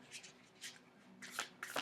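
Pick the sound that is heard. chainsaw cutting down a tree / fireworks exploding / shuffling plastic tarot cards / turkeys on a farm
shuffling plastic tarot cards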